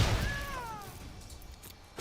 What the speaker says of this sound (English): Sounds like there's a cat meowing.